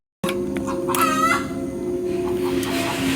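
A rooster crows loudly and close, with some clucking from chickens, over a steady low hum.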